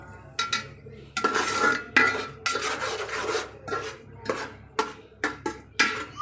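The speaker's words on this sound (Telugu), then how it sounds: "తర్వాత ఒకసారి మనం తిప్పేసుకోవాలి" A spoon scrapes and knocks around a pot of fish curry in quick, irregular strokes, each scrape loud and close, separated by short pauses.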